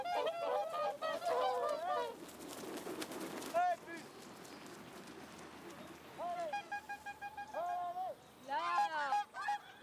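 Snow geese hand-raised in Canada by imprinting give repeated nasal honking calls in bursts, some overlapping, nearby and fairly loud.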